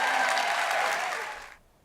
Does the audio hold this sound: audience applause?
yes